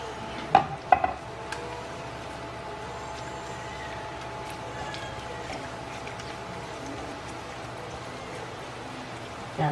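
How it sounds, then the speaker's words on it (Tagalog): Garlic sautés in a pan while cooking Ginataang Kuhol, a soft, steady sizzle beneath a few sharp clinks of a utensil against the pan near the start. "Gigisa po natin siya ng mabuti."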